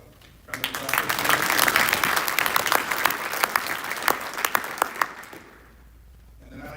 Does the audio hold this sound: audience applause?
yes